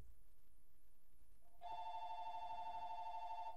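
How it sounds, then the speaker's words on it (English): A phone starts ringing partway through, a steady electronic tone that holds at a moderate level over low background hiss, with no voices. "Is the phone ringing?"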